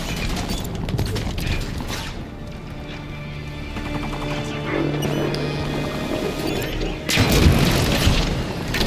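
Grenade blasts and heavy gunfire in a Halo 5 Legendary firefight against Guardians-era enemies, with dense booming explosions throughout and a loud burst near the end.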